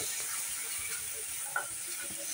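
Spice paste sizzles in oil as it is fried and stirred, a close, even hiss with light scraping and one brief clink, and no one talks.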